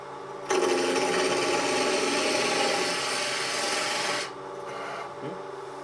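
Wood is shaved with a homemade hand tool in a shop, giving a continuous close rasping scrape that runs for several seconds, then stops abruptly, followed by faint lighter rubbing.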